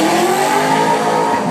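Vauxhall Firenza racing car with a specially tuned engine at a historic car show, roaring loud and close in a steady, harsh high-revving drone.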